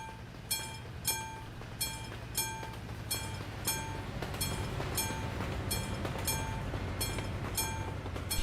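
A train rolls past in Euro Truck Simulator 2 on version 1.40, a steady clickety-clack of wheels over rail joints with regular bright clanks repeating roughly every half second, a continuous low rumble underneath, no talk.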